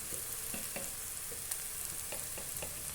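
Frying in a pan with cumin powder added, a close, steady sizzle broken by several light stirring scrapes and taps, with no talking.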